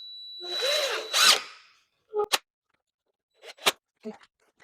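A power drill whirs up twice, driving screws into wooden roller coaster ribbon boards, followed by sharp knocks and brief clacks of lumber and hardware, close and loud against near silence.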